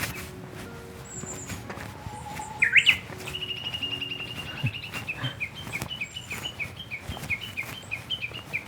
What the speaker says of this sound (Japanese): ウグイスだったり野鳥の声が